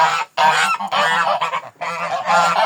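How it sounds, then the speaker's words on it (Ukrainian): Several geese honk loudly and close by in a flock, with repeated overlapping calls broken by two short pauses, and no talking. "З цими гусьми теж не так то все добре, як хотілося."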